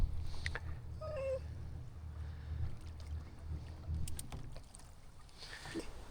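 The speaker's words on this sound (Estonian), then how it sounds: "Selle väikse paadiga on jube hea manööverdada siin niimoodi." Small boat gliding through narrow canals while pike fishing, a steady low water and hull rumble throughout, close and moderately loud, with faint wind noise and a few brief knocks and splashes.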